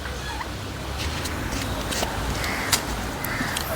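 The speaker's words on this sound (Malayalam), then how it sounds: "ടർക്കികളാണ്." Turkeys gobble and call amid farmyard fowl noise, with brief bursts rising over a steady background hum and a few louder peaks.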